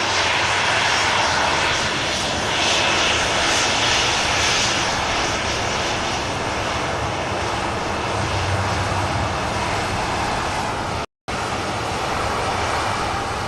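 Steady, loud roar of a Loganair airliner's engines in flight to Dublin, heard from inside the cabin as a broad, unbroken drone with one brief dropout near the end.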